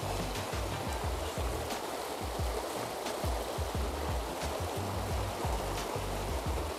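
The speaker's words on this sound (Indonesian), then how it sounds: "Kita tengok air ya, guys. Sungainya." A river runs steadily, its continuous rushing and gurgling close and fairly loud, with no voices over the flow.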